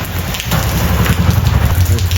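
Heavy rain pours down in a village, a loud, dense and continuous patter of drops hitting surfaces close by, with no voices.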